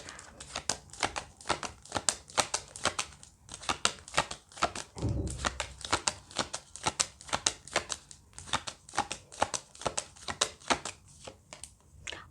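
Tarot cards are shuffled and drawn in a rapid run of crisp riffling clicks and snaps, close and steady throughout with a short soft rustle midway and no talk.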